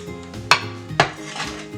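A freshly baked lemon bundt cake releasing from its hot pan, heard as two sharp metallic clanks of the pan about half a second apart, with lighter rattling and scraping between them.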